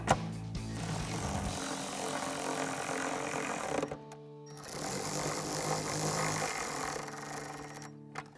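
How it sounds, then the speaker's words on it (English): A power driver with an 8mm socket runs steadily to tighten screws while a cold air intake is installed on a Silverado 1500. It whirs in two sustained runs with a short pause between, fairly close and with no talking. "take an 8mm socket and tighten those down"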